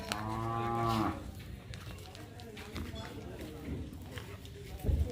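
Cattle low loudly at a livestock market in the Sylhet border area, one long harmonic moo up close at the start, followed by crowd noise, shuffling and chatter, with people talking throughout.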